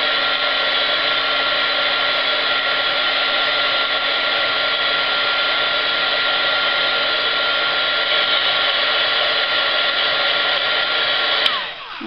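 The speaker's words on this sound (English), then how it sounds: "So I always use my trusty heat tool." Steady loud whoosh of a craft heat tool drying Tim Holtz ornate plate charms, a continuous even blowing hum with no breaks, cutting off abruptly at the end.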